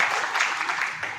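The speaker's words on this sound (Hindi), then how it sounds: "एक बार तालियां मुस्तफा भाई के लिए।" Audience clapping at a Hindi-Urdu poetry recital (kavi sammelan and mushaira), a brief burst of dense, even applause, moderately loud and without voices.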